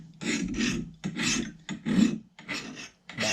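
Hand file sharpening an axe edge, six rhythmic rasping strokes, close and crisp, each a short grinding scrape separated by brief pauses.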